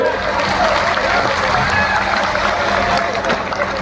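A crowd at a political rally applauds in a steady, dense clatter of clapping, with voices mingling in the background throughout.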